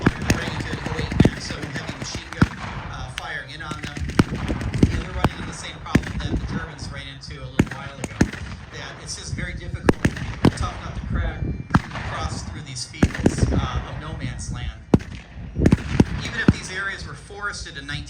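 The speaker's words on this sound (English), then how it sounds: "so heavy machine gun firing in on them" Blank gunfire at an April 2025 WW1 reenactment in Rockford, Illinois, meant as heavy machine gun fire: scattered sharp reports at irregular intervals, some near and loud, mixed with a steady background din and someone talking throughout.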